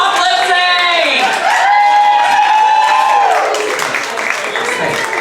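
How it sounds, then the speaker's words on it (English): An audience at a drag competition show cheers and claps loudly for the top two performers, with high whoops and shouted voices rising over steady applause that gradually thins out. "One more round of applause for our incredible top two."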